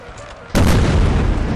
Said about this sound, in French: Premier canon.